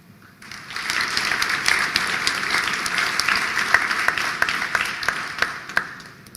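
Round of applause for a graduate at a university commencement ceremony, crowd clapping swelling in after a quiet start and holding steady, with a few louder individual claps standing out.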